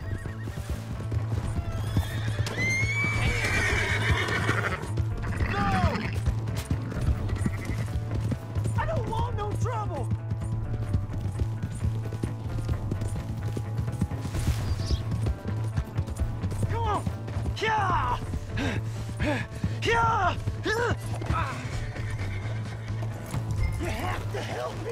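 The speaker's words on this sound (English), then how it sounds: "Hey, that's my horse." In Red Dead Redemption 2, a horse whinnies repeatedly while hooves clip-clop, over a steady low hum with voices talking throughout.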